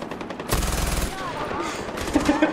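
Gunfire in the video game Far Cry 4: a dense burst of automatic shots erupts midway, loud and close, followed by scattered further shots and game sounds.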